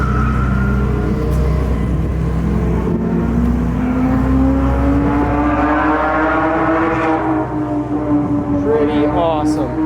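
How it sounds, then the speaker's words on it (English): A Dodge Charger SRT Hellcat revs and accelerates with rising whining engine pitch during a drifting ride-along on a wetted track, loud and close, with people talking over it. "There's the car, the SRT Hellcat."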